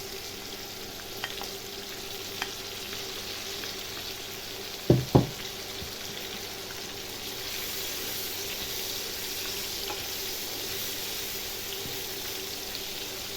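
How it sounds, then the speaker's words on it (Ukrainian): Steady sizzling of onion frying in lard in a hot pan fills the whole stretch, with a couple of brief clanks partway through as the onion is tipped in. "Тепер ми сюди викидаємо цибулю."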